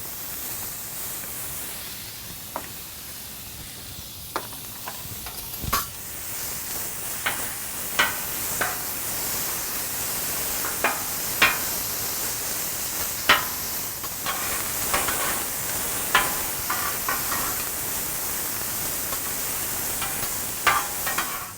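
Beef chorizo and ham sizzle steadily on a Blackstone griddle, a constant hiss broken by sharp scraping clicks of a spatula every second or two, close and alone without talk.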